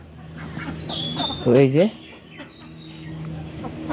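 Domestic ducks quack in a brief burst during their midday feeding in hot weather, a short cluster of nasal calls close by, with a person talking around them.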